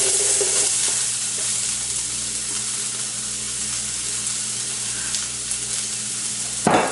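Onions hit hot oil in a big pan and sizzle loudly and steadily throughout, a close, constant hiss with a clink of the pan right at the end.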